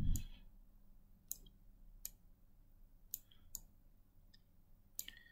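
Computer mouse button clicks while working in dental implant planning software, a few crisp isolated clicks spaced irregularly over a quiet background hum, fairly close and faint.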